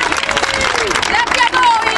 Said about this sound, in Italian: Un fortissimo applauso